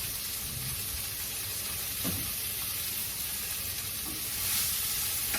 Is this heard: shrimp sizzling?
yes